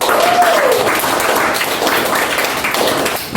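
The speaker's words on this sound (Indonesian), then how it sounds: "Tepuk tangan dong." A classroom of students applauds during an Islamic studies lesson on marriage rules, a brisk, fairly loud patter of clapping that runs steadily for several seconds, with a brief voice-like tone near the start.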